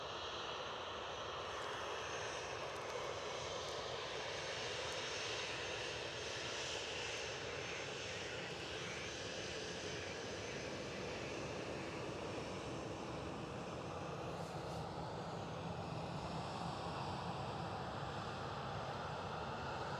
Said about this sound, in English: So Ryanair's been cleared for takeoff.